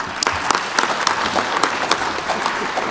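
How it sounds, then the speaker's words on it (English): Applause for panelists at an international forum on Korean unification fills the room with steady clapping and sharp individual claps standing out, and no voices over it. "Let's have one more round of applause for our panelists today."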